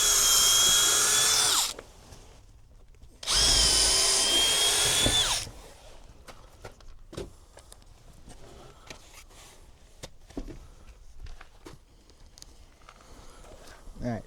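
A power drill bores into poplar lap siding in two loud, sustained bursts of about two seconds each, separated by a pause and followed by quieter shuffling and handling noises.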